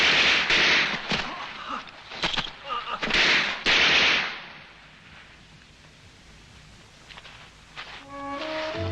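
Gunfire in a war film, rapid bursts of loud shots crackling in clusters over the first few seconds, then a quieter lull before a low tone rises at the end.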